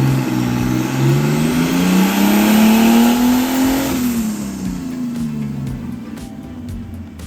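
A stock BMW E46 fitted with a cheap turbo and running on E85 revs hard on a dyno, its engine note sweeping upward loud and steady, then falling away as the run winds down, with a few clicks at the end.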